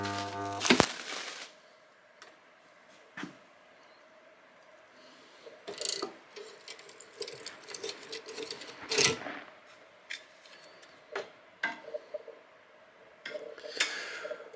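An Ideal bandsaw blade welder, repaired and set to a lower welding current, joins a bandsaw blade, giving sharp mechanical clicks and brief crackling bursts spaced irregularly over quiet background, fairly faint overall.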